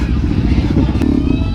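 Harley-Davidson motorcycles idling at a bike night, a steady, loud low rumble with clattery texture close by, with a brief burst of voices or crowd noise partway through.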